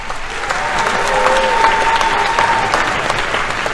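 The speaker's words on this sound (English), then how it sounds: "Can we please get a round of applause for our world-class internet?" An audience at an annual showcase event applauds steadily for several seconds, a dense wash of clapping from a crowd in a hall.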